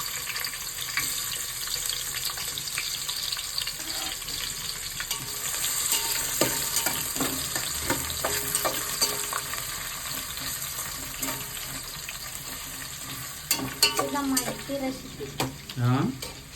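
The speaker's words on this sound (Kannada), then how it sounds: "ಇವಾಗ ಎಣ್ಣೆ ಹಾಕ್ಬಿಟ್ಟು ಅವನ್ನ ಮೆಣಸಿನ್ಕಾಯಿ ಉಳ್ಳಾಗಡ್ಡೆ ಹಾಕಿ" Chilies and onions frying in oil while a home chicken dish is cooked, with a steady crackling sizzle, occasional stirring clatter near the end, and faint voices in the background.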